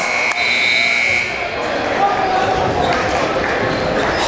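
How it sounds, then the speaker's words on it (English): A basketball game clock buzzer blares loud and sustained at the start of the clip during a fourth-quarter high school game, then gives way to crowd noise with voices over it. "Maybe a quick buzzer beater from Spellman."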